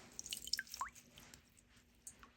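Water drips and squishes while a 1960s Mattel Midge doll's old vinyl hair is wetted, a handful of small, close, irregular drops and wet squelches in a quiet room, with no talking.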